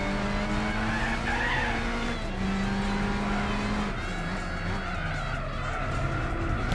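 Turbocharged Suzuki concept race car with nitrous in Gran Turismo 4, engine droning loud and steady throughout with shifting pitch, tires squealing and skidding through a turn, no one speaking.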